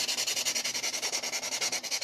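Hand sanding a gingerbread fofucha doll, a rapid, even back-and-forth rubbing of about eight strokes per second, close and scratchy with no talk.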